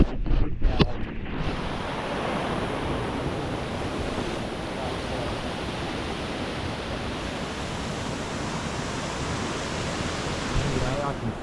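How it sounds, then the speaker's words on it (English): Steady broadband rush of a waterfall and flowing water in a jungle valley at Faurara Falls, Tahiti, continuous and fairly loud throughout, with a brief rustle at the start. "I'm just around the corner from this waterfall"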